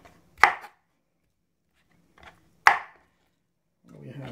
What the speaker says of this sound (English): Here I'm chopping some, cutting a few bits of.